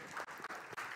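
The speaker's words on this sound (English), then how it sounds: "Let's have a round of applause for Maria." Brief, faint applause from an audience at a product presentation, a soft continuous patter of many hands with small dips.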